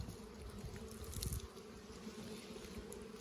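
Honey bees hum steadily inside a hive during a winter check, a close, continuous low buzz that swells briefly with a few louder passes near the start.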